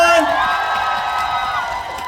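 An outdoor festival crowd at a food expo concert answers a trot singer with cheers and clapping, loud shouting and whoops dominating at first, then thinning into scattered applause.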